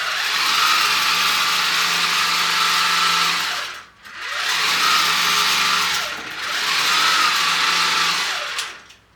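Home sewing machine fitted with an Arduino stitch regulator running in three long loud bursts of steady motor whir and rapid needle chatter, separated by brief pauses, with no talk.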